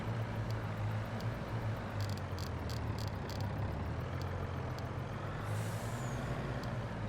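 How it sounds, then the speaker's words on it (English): Trucks are dispatched in the farming video game Farming Simulator 22: a steady heavy engine rumble drones throughout while several sharp air-brake hisses burst near the middle, loud and continuous, with no voices. "we are dispatching the trucks"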